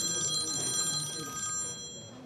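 A telephone rings in a quiet room, with steady repeated electronic tones and faint background noise.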